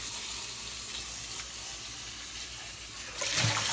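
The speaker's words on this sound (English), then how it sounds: "Then we can rinse them here with the water" Water runs over food in a cast iron skillet at a kitchen sink, a steady soft rushing hiss that grows louder and splashier near the end, with no voices.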